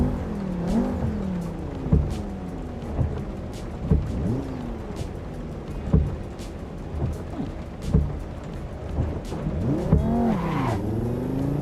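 Racing car engine in the sim racing game Assetto Corsa Competizione, revving up and down through repeated gear changes with whining, sweeping pitch, steady and fairly loud, with no talking.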